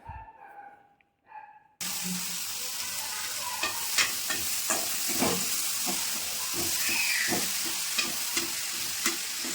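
A vegetable poriyal being stir-fried in a pan gives a steady close sizzle, broken by repeated scraping and stirring clicks from a spoon against the pan. It runs alone after a brief quiet start.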